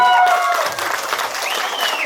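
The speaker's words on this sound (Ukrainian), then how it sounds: "Це бурхливі оплески вже з криком." Lively applause from a crowd at a wedding celebration, with some shouts and whoops rising over the clapping, sustained throughout the short stretch.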